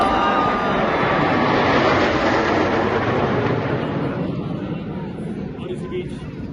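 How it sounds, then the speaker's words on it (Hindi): Indian Air Force Jaguar fighter jets pass overhead during the Army Day parade in Jaipur, a loud broad jet roar that swells and then fades into the distance, with a voice commentating over it. "भारतीय वायुसेना के 3 जंगवार लड़ाकू विमान आज अपनी शौर्यपूर्ण उपस्थिति"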